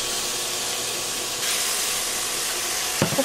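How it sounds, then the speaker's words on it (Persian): Ground meat hits hot oil in a pan for Afghan ashak, giving a steady broad sizzle that swells louder midway, with a brief clatter near the end. "گوشت بالای روغن مندازیم"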